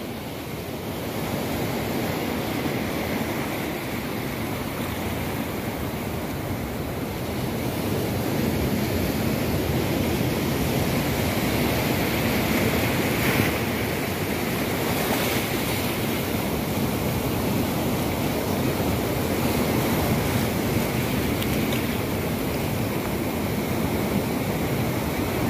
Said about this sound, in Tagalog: Lakas ang tunog ng tubig ng alon.